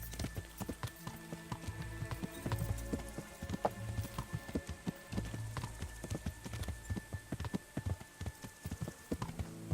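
Horse hooves clip-clop steadily in the medieval role-playing game Kingdom Come: Deliverance, a busy run of close, uneven hoof strikes over low ambient rumble, with a faint whinny and occasional speech mixed in.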